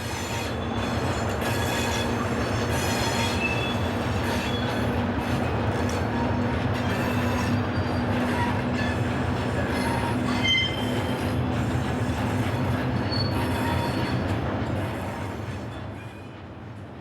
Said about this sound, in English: Number 6533 restarts its train just to the south of Istres